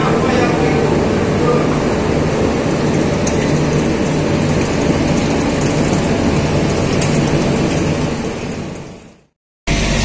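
The Wijayakusuma passenger train on the Ketapang–Surabaya line rolls into Rambipuji station with a loud, continuous rumble and rattle that fades briefly and cuts out near the end.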